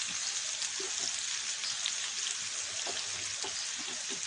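Onions and green chillies fry in a pan with cumin for aloo methi paratha, producing a dense, steady hiss of sizzling oil with faint light crackles throughout, close and even in level.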